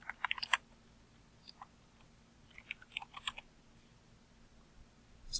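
Keystrokes on a computer keyboard while entering text in CAD software: faint, irregular clusters of soft clicks with a long pause between bursts, heard close with no talking.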